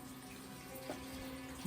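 Water running steadily from a tap or hose while cabbages are watered in a garden, a continuous close hiss with a brief splash near the end.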